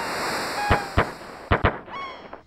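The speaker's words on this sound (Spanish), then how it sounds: "Son disparos. Están atacando un pueblo." Five sharp gunshot-like bangs in the Chrono Trigger video game, scattered over a couple of seconds, each a brief loud crack over a soft steady background hiss.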